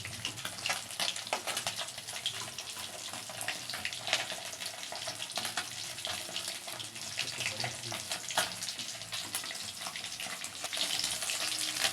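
Eggplant slices frying in oil for a hilsa khichuri meal give a steady, moderately quiet sizzle with fine crackles throughout, close and continuous, with no talk.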